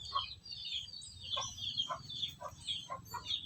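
Sick chickens with diarrhea cluck softly and repeatedly in short bursts against a low background rumble, the calls fairly quiet and evenly spaced.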